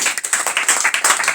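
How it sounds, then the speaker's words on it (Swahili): A church congregation claps together in a quick, steady rhythm of sharp hand claps, fairly loud and close, with no speech over it. "Mpe Bwana makofi mazuri."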